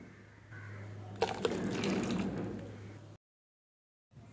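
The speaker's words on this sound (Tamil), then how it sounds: "இன்னும் கொஞ்சம் தண்ணி ஊற்றிக்கலாம்." Water being poured into a thick mixture of palm jaggery and coconut milk, a steady splashing fill lasting about three seconds with a few sharper splashes, close by, followed by a stretch of silence.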